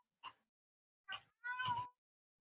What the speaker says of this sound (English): And then apparently the cat fucking comes apparently in it and meows at you.